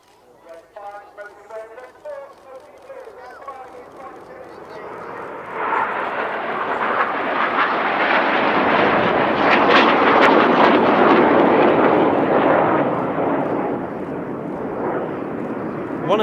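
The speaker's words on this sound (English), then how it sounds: "Here is the crowd favourite Tornado manoeuvre" Red Arrows jets performing the Tornado manoeuvre at an airshow, a loud, swelling roar of jet engines that builds and holds steady, with a voice talking over the start.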